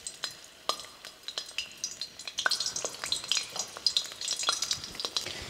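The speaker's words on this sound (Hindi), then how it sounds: "मुठिया सेकने के लिए हमें बहुत ज़्यादा तेज़ गरम तेल नहीं चाहिए, मीडियम गरम होना चाहिए, और हमें मीडियम आंच पे ही इसको सेकना है।" Methi muthiya dumplings fry in medium-hot oil with a steady crackling sizzle, punctuated by light clinks of a spoon moving them around the pan, close and continuous with no talking.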